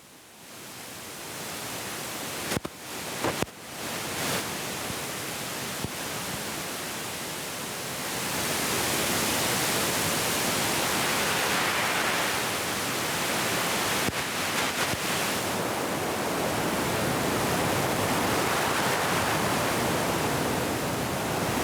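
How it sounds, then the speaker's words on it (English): A no-input mixing board fed through an aux channel for extra gain produces a steady broadband hiss like rushing static that swells louder after a few brief dropouts and holds steady to the end. "we're going to get a really nice audible noise"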